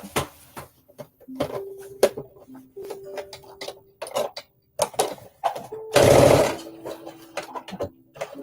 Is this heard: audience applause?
no